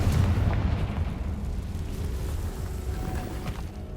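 A Confringo blasting spell goes off in the game Hogwarts Legacy, a deep rumbling explosion that booms loudly at the start and trails off into a long low roar over several seconds.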